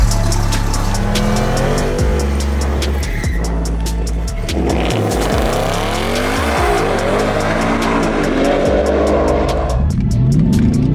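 Supercharged 2024 Mustang GT with a 3.0-liter supercharger at a drag strip, loud engine roaring and rising through gears with tire squeal, continuous and close for the whole stretch.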